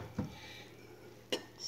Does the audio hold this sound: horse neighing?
no